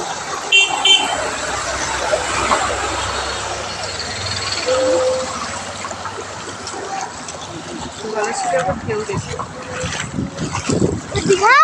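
A vehicle approaches through floodwater on a road, with a rushing wash of water and a couple of short horn toots, heard from nearby while people talk over it.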